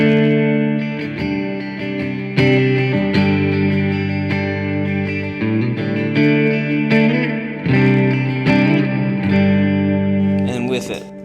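An electric guitar run through reverb and chorus pedals, without an EHX Soul Food overdrive, plays clean, shimmering chords and notes with a lingering wash of reverb, loud and up close.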